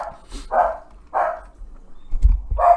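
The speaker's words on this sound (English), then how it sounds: "I apologize for my dogs." Pet dogs bark indoors, three loud, spaced woofs at a steady pace, close by, with some low thumps and shuffling between them and no talk.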